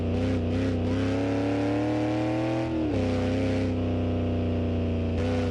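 An 80s American muscle car in a video game snarls with a loud, sustained engine roar while drifting, its pitch sagging and swelling as the revs shift, with no voices over it.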